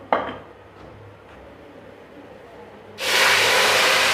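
Taro root (arvi) drops into about one and a half pav of hot oil, starting with a few light clinks of utensils and then bursting into a loud, steady, close sizzle that fills the last second.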